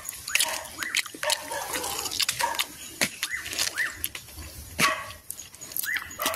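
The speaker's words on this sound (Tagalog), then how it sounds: "May aso." A dog barks several times at close range, short sharp yaps scattered over a background of dripping water, clattering and light handling noise.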